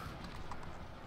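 Cavalry horses gallop in the video game Empire: Total War, a brief rush of quick hoofbeats under a dense battle din.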